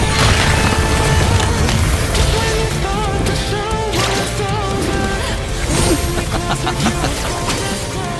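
Exploding teddy bears blast apart in an animated Joker versus Giorno battle, dense booms and crashes layered over a loud, continuous action soundtrack.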